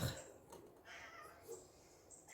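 A small pet cat meows in a workshop where a rudder for a 7-metre sailboat is being built, a few soft, high mewing calls spread over a couple of seconds, faint and close, with light background noise.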